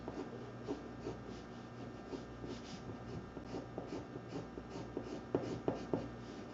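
A dull pencil drawing a face on paper, a soft continuous scratchy rubbing with short strokes, close and quiet, ending in a few firmer taps of the lead.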